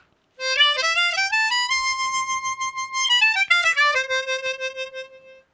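Harmonica playing the major scale across the middle octave on holes 4 to 7, eight clear sustained notes stepping up and then back down, loud and close with no talking.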